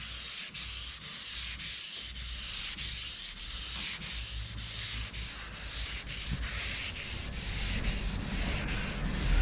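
Clear coat on a Z28 car is sanded flat by hand in long rhythmic back-and-forth strokes, a steady close scratchy rasp repeating about twice a second that grows slightly louder toward the end.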